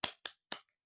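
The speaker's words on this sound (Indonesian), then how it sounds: "mari kita berikan tepuk salut untuk teman-teman dari kelompok 1" Three sharp, quick hand claps ring out in a classroom, evenly spaced and crisp, with silence after them.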